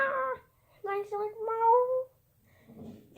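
A drawn-out, wavering meow close by, apparently a human voice imitating the cat Lightning, with brief talk before and after.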